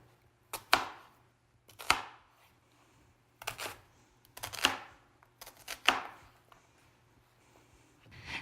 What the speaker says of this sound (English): Now I'm gonna just chop this one into small